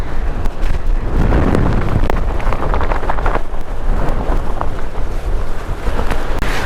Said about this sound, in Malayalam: എന്ത് നല്ല അടിപൊളി കാറ്റ് കണ്ടോ. നിലയ്ക്കാത്ത കാറ്റാണ്.